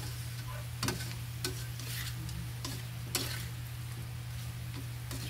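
Food sizzling and frying in a pan in a Philippine home kitchen, stirred with a utensil that gives occasional sharp scrapes and clinks over a steady hiss and low hum, close up with no talking.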